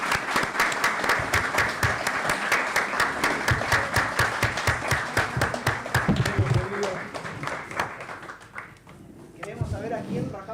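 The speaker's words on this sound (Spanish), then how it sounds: "Le damos un fuerte aplauso para que venga adelante." An audience at a book presentation at a national library claps in a dense, sustained round of applause that thins out toward the end as a voice begins speaking.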